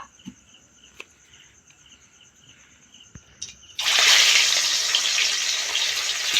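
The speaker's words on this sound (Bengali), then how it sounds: "কড়াইতে এখন লবণ হলুদ মাখানো মাছগুলো দিয়ে দেব।" Pieces of rupchanda pomfret rubbed with salt and turmeric go into hot oil in a wok over an earthen stove. A quiet outdoor backdrop of insect and bird tones gives way to a sudden, loud, steady sizzle that keeps going.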